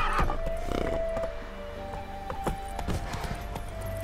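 Roach, a horse in the video game The Witcher 3, gives a short neigh and then a run of galloping hoofbeats, close and fairly loud, with game ambience underneath.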